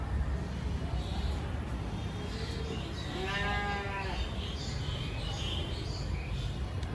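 A single goat bleats at a livestock market, one drawn-out, wavering call in the middle of steady crowd and market noise.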